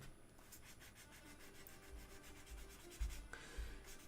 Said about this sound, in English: I'm going to finish sanding these couple parts here